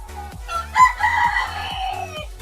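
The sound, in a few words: rooster crowing after seeing maize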